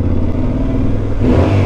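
A 2022 Yamaha Ténéré 700 motorcycle engine with stock exhaust rumbles steadily at close range, its low throb rising slightly in pitch toward the end.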